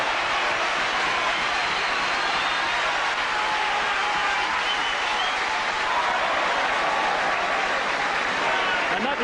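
A stadium crowd applauds and cheers as the Swansea rugby team runs out against the All Blacks in 1989, a dense, continuous roar of clapping filling the whole stretch, loud and unbroken, with a commentator talking over it.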